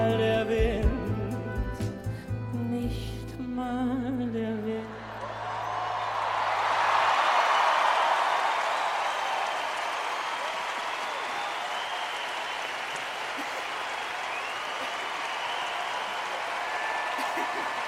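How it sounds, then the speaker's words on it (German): Applause from an audience breaks out at the end of a German-language song performance, starting as music fades and swelling into a steady, full wash of clapping that continues to the end. "Applaus"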